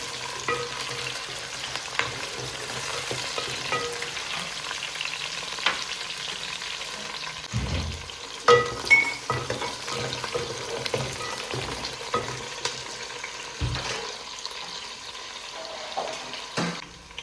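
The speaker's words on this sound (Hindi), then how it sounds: "प्याज लहसुन अदरक को मैंने फ्राई कर लिया है" Onion, garlic and ginger frying in a pan for chicken pulao in a home kitchen, a steady soft sizzle with occasional stirring clatter and a few louder utensil knocks, no talking.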